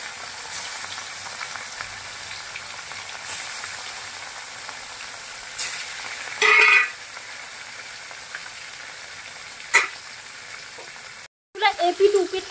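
Pieces of katla fish sizzle steadily in hot oil in a kadai, with sharp louder hisses and crackles as more pieces are dropped in one by one.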